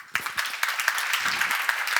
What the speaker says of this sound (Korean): 이해한 사람만 박수 쳐봐요.